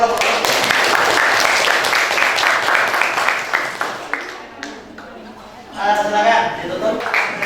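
A university classroom group of student teachers gives applause for a presenting group, dense clapping near and loud, with chuckles and chatter mixed in, thinning briefly before another burst of clapping toward the end.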